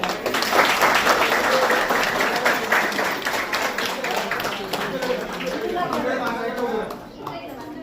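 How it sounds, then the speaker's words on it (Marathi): A reunion gathering of former classmates breaks into loud, sustained applause: dense clapping that carries on for several seconds and thins out toward the end, with some voices mixed in. "जोरदार टाळ्या झाल्या म्हणजे"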